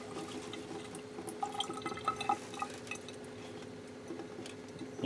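Water sprays and trickles gently over sprouts being rinsed, with light drips and faint clinks of kitchenware, a quiet steady rinse.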